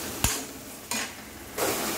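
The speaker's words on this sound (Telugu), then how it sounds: "ఉల్లిపాయలని ఎర్రగా వేయించాలి." Onions with salt fry in oil in a pan, with three separate scraping strokes of a spoon over a soft, steady sizzle.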